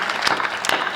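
Audience applause at a Hindi poetry recital, a brief burst of clapping with two sharper peaks, close and fairly loud.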